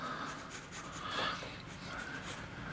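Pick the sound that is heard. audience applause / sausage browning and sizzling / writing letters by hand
writing letters by hand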